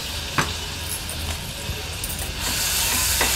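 A ground paste of ginger, garlic, green chili and coriander sizzles loudly in hot oil, a dense, steady hiss punctuated by a few stirring scrapes. The sizzle swells slightly louder toward the end.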